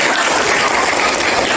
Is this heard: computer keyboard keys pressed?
no